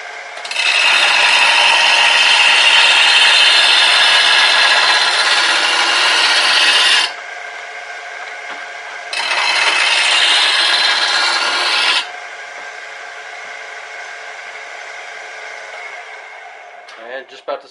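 Grinder sharpening a lawn mower blade, a steady loud abrasive rasp that runs for several seconds, briefly quiets, resumes, then drops to a lower hum near the end.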